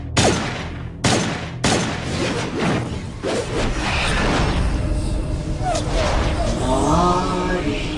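Gunfire from the video game Borderlands the Pre-Sequel starts with a few sharp, loud shots, then gives way to dense, chaotic combat noise and whooshes with voices talking over it.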